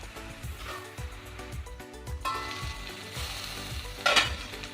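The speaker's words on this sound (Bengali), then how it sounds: "এবার ঢাকা দিয়ে মজতে দেব।" Vegetables and Malabar spinach cook in a covered pan, giving a crackling, bubbling sizzle with a rhythmic lid-like rattle or knocking throughout and a brief louder hiss near the end.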